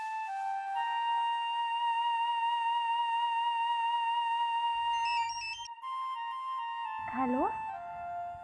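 A phone rings late at night with a sustained electronic melodic ringtone, steady and clear for several seconds before it cuts off, followed by a short burst of other electronic tones.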